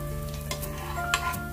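A tomato omelette fries in a pan on medium heat after being flipped, giving a faint, steady sizzle with a couple of soft taps or scrapes.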